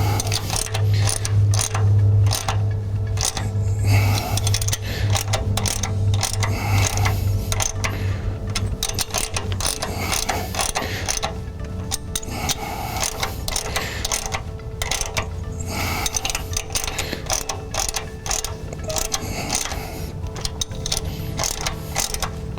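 Hand ratchet clicking steadily as bolts are run down to seat a wear sleeve while installing the front crankshaft seal on a 5.9L/6.7L Dodge Cummins diesel, with rapid continuous pawl clicks throughout and a low hum beneath.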